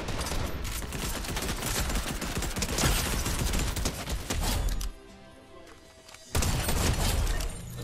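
Rapid bursts of gunfire from the video game Apex Legends, sustained crackling shots and impacts almost throughout, briefly dropping away before another loud volley resumes.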